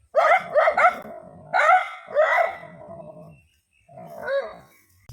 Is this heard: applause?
no